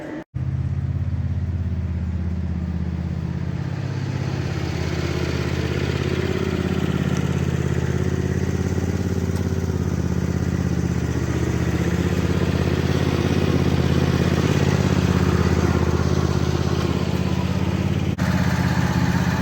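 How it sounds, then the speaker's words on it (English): A small red tractor engine runs at a steady idle outdoors, a continuous low, throaty rumble that holds unchanged for nearly twenty seconds with no talking. "Get the Little Red Tractor fueled up, and I'll just leave it running now for, I don't know, 15-20 minutes"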